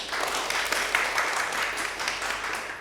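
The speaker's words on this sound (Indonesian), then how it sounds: "Bisa beri tepuk tangan anak-anak." Children in a classroom clapping their hands together, a steady moderately loud patter of many small hands lasting a few seconds with no talking.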